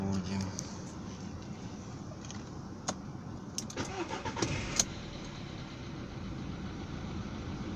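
A 2015 VW Polo Sedan engine starting from cold at a coolant temperature of 10 degrees, with a short cranking burst and a few clicks and rattles before it settles into a steady idle.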